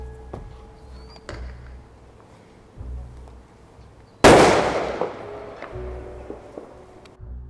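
Airsoft artillery pyrotechnic bursts close by with one sharp, loud explosion that rings out and decays over a few seconds, following a stretch of faint ambient noise with light clicks and rustle.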